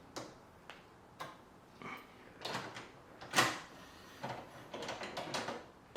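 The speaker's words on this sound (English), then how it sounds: "Start off by removing the top cutlery drawer, also known as a vario drawer." Clicks and soft metallic clunks from the top cutlery drawer (vario drawer) of a Bosch dishwasher being slid off its side rails, a series of short, separate knocks and scrapes at close range with no talking.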